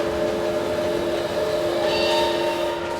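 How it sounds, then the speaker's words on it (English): A roller coaster train passing in the Planet Coaster 2 video game gives a loud, steady rumbling roar with a sustained whining tone running through it, heard alone without talk. "Here goes the train."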